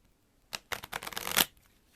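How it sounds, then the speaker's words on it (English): A deck of Gemaco playing cards is riffle shuffled close up, with a short flick followed by a dense, crisp burst of interleaving cards that rises to a sharp finish and then stops. "if you handle the deck right, you can Riffle Shuffle halfway decent"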